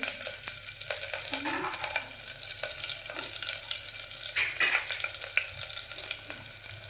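Mustard seeds, cumin and garlic fry in hot oil for a home lunch, giving a steady, close sizzle with occasional spoon scrapes and small pops throughout, and no one talking.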